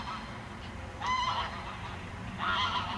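Two short bursts of harsh, agitated honking from geese at a moderate distance, over a low background rumble.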